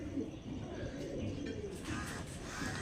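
A Star Kalanka pigeon pair coos softly under a dense, steady background hum, the low calls faint and continuous throughout.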